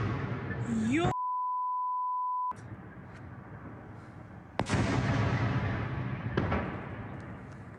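Distant explosions boom at night in Luhansk, a few loud blasts rolling out over background noise, briefly interrupted by a steady beep tone.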